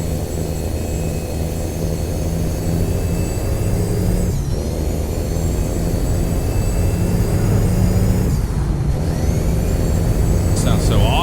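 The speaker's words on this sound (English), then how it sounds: "Let you listen to these gears all the way up until we get to 8th." A heavy truck engine pulls steadily and loud up through its gears toward eighth, with brief dips in pitch at each shift around every four seconds and a high whine riding on top; a voice speaks over it.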